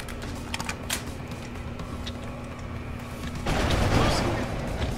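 Gunfire in the video game Deus Ex: Human Revolution. Scattered sharp shots ring out over game noise and a low hum, then a louder burst of blasts and rumble near the end.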